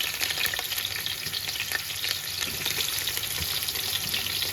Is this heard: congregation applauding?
no